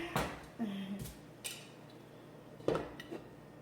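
A plate is picked up from among dishes for serving Ghanaian jollof rice, giving a handful of close, short ceramic clinks and knocks with quiet gaps between them.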